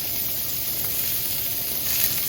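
Peppers sauté on a hot griddle in olive oil, giving off a steady, even sizzle and hiss that runs unbroken from start to finish at moderate volume.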